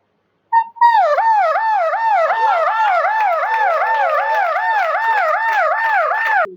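A person's voice imitates an ambulance siren at a live poetry, storytelling and singing event in Prayagraj, a steady rising-and-falling wail repeated about ten times, loud and close, alone for about six seconds.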